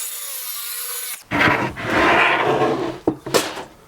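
A saw cuts a sheet of 3/4-inch plywood resting on a block underneath, with short bursts of rough cutting broken by brief gaps and a few sharp knocks, close and fairly loud.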